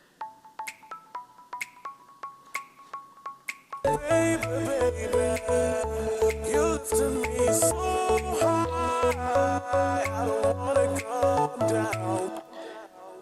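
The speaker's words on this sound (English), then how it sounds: "Also a finger snap comes in." A finger snap sample clicks in a regular rhythm over sparse plucked marimba-like notes in a deep house breakdown, before a fuller mix with bass enters and keeps going.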